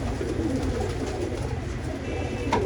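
Male dub pigeons coo in a loft, a soft continuous throaty murmuring close by with no talk over it.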